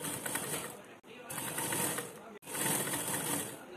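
A sewing machine runs in steady whirring bursts while stitching the neckline of a toddler's dress, with two brief stops between runs; the mechanical hum is close and continuous.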